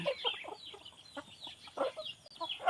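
Chickens and chicks cluck and peep in short, scattered calls, fairly close and lively, with bursts of chirping overlapping across the whole stretch and no talk.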